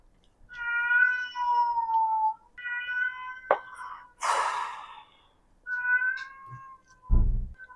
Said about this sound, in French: elle miaule devant la porte